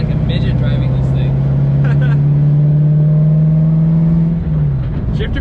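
Chevrolet Corvette C7 Z06 engine running steadily while driving, a loud, close, sustained drone from inside the car that eases off near the end.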